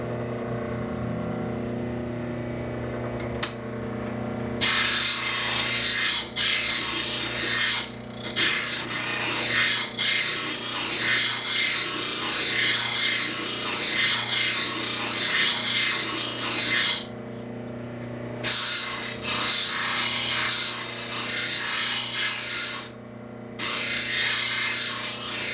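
A spokeshave blade is ground in long, loud, continuous rasping passes broken by short pauses, with a low steady hum running underneath throughout.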